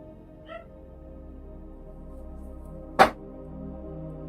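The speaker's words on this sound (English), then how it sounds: "You can hear my dog barking." A small dog gives a faint yip early on, then one sharp, loud bark a few seconds later, each short and isolated over a quiet indoor background with a low hum.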